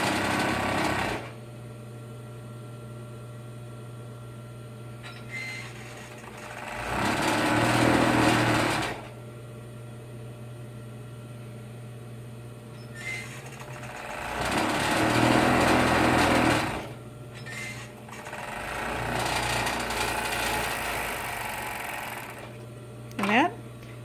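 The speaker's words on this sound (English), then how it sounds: "And that is our first side seam." A home sewing machine stitches the side seam of a vest with a 3/8 inch allowance, running in three close, loud whirring bursts separated by pauses while a person talks.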